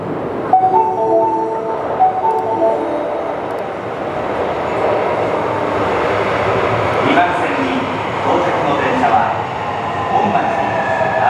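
A colorful train rolls past in Osaka, Japan, with a steady rumble and clatter that lasts the whole stretch, while voices murmur in the background.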